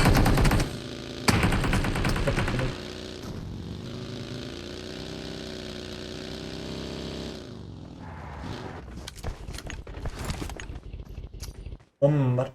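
PUBG Mobile gunfire comes as loud bursts of automatic shots, with rapid fire near the start and sustained game noise and engine-like drone through the middle, ending in scattered shots and effects.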